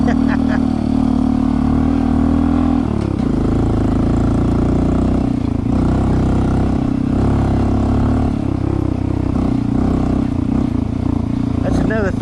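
A Honda CT125 fitted with a 142 big bore kit rides off road across a ditch, its engine loud and continuous up close, with someone talking over the running motor.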